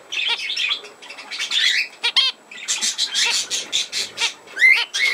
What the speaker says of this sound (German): Papagei habe ich gesehen, wirklich.